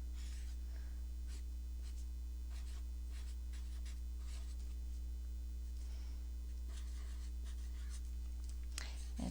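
Pen writing on paper samples in a junk journal, with intermittent scratchy strokes heard up close over a steady mains hum.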